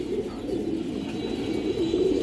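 A female pigeon coos in low, repeated rolling calls, close and steady with no talking over it.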